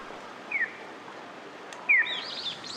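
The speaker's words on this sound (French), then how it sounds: "Il s'agit de sons artificiels destinés à faire savoir aux malvoyants que le feu au carrefour est passé au" Artificial bird-call crosswalk signal in Japan that tells visually impaired pedestrians the light has turned green: two short electronic chirps, the second louder and followed by a brief warbling trill, over a steady hiss of street ambience.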